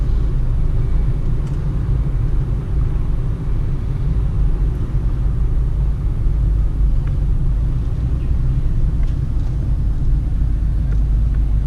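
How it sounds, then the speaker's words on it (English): A Peugeot Partner with an automatic gearbox drives along narrow roads at gentle speed, a steady low engine and road rumble heard from inside the cabin, continuous and fairly loud with no talking. "You hear the automatic gearbox switching very smooth"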